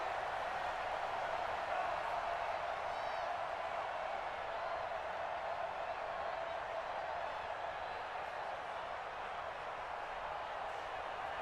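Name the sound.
stadium crowd cheering in the video game Madden NFL 20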